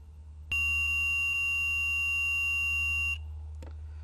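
A multimeter's loud, steady continuity beep holds for about two and a half seconds as the leads touch, then cuts off abruptly, followed by a faint click over low background hum.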